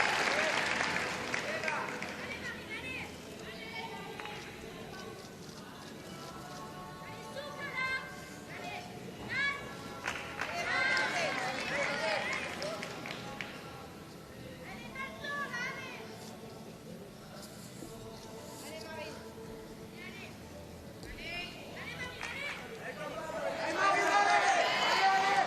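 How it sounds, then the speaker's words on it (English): Teammates cheering on a gymnast at the 2022 World Artistic Gymnastics Championships beam final, a crowd of youthful voices shouting and clapping in a large arena, swelling and fading under a commentator's voice. "her teammates are cheering her on all the way"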